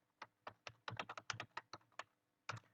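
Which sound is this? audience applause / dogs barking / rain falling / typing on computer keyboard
typing on computer keyboard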